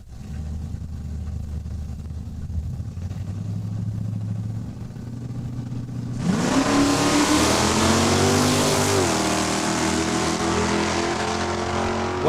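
Drag race cars at Saskatchewan International Raceway in Saskatoon, a convertible Mustang and a 1978 Super Coupe, idle with a low rumble before launching into a loud roaring acceleration that climbs in pitch and holds as they run down the track.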